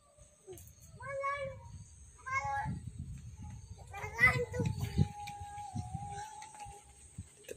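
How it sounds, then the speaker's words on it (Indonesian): A cat meows a few times in short, rising calls, with children's voices and chatter mixed in nearby. "Sana ada kucing lagi di bawah itu."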